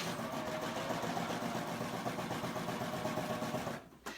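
A serger sewing machine stitches fabric for an Easter egg bowl project, running as a steady, close mechanical whir at even speed. It cuts off abruptly near the end.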